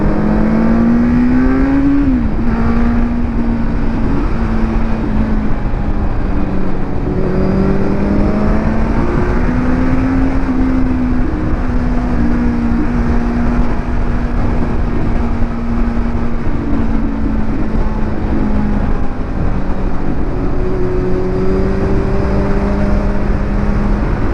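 Motorcycle engines rev at a busy World Motorcycle Day ride, among them a green Benelli 600i, with steady, loud engine drone rising and falling continuously throughout; distinct exhaust pops and bangs are not clearly separable.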